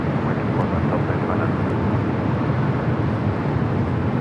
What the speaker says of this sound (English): Delta Airlines Flight 39 taking off to Shanghai on the A350-900.